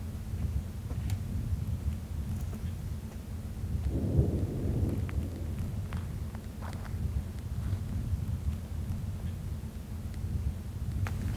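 A thunderstorm rolls over open Utah pronghorn country, with a continuous low, distant rumble of thunder under a hiss of rain and wind, swelling briefly midway before settling back to a steady roar.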